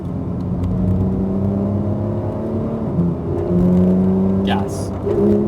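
A Porsche 911 GT3 engine accelerating on a racetrack, a loud steady engine drone with rising and stepping pitch heard from the cabin, with a voice talking over it.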